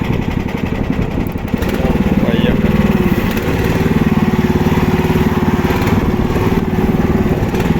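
A small engine on a mini skid-steer loader toy tractor drones loudly and rises as the machine drives off, a steady buzzing motor close by under a brief voice.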